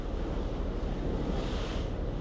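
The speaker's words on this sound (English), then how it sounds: "More swells coming up here." Ocean swells and surf roll in around small boats at sea, a steady, broad wash of water with heavy wind buffeting the microphone throughout, no clear individual wave breaks standing out.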